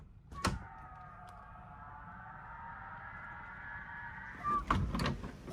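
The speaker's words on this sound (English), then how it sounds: "when it's windy out and you open these doors," Wind whistling through opened balcony doors on the Royal Caribbean cruise ship Oasis of the Seas, a steady sustained tonal whine lasting several seconds, with door clunks at the start and end.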